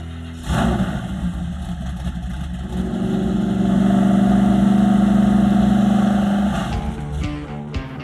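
The Roadkill Garage Crusher Camaro's engine idles, then revs up into a loud, sustained roar for several seconds on a drag run in about 90-degree heat, before easing off.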